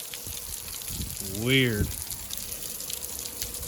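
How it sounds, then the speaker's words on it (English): A heavy rainstorm pelts down in a steady, dense hiss throughout, while a voice briefly speaks and a short whistling tone rises over the downpour. "Another crazy rainstorm."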